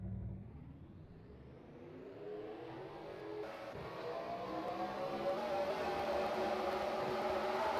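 Race cars in a Hot Wheels racing video game roll off, their engines rising in a steady building whir and rumble that grows louder toward the end, with no voices.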